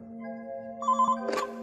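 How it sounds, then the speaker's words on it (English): Desk telephone ringing, a single short electronic ring with a steady tone and a brief warbling burst near the end, heard clearly and alone. "Just then, the phone on Luke's desk rang"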